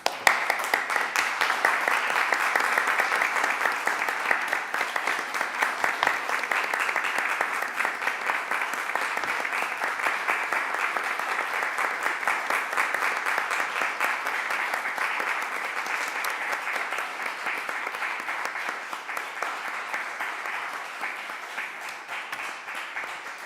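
A poetry book presentation audience gives sustained applause, a dense, even wash of many hands clapping that holds steady for over twenty seconds before slowly easing off.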